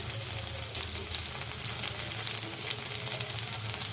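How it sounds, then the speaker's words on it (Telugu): Steady sizzling and crackling of ivy gourd frying in a pan over medium flame, moderately quiet, with no voices. "ఇలా బ్రౌన్ కలర్ వచ్చే వరకు మంట మీడియం ఫ్లేమ్లో పెట్టి వేయించుకోండి"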